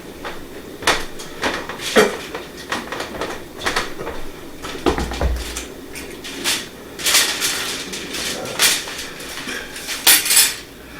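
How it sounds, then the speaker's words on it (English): A fork clinks and scrapes against a baking dish of baked au gratin potatoes, with repeated close taps and pokes in an uneven rhythm and no talking. "just take your fork and put them down through the potatoes"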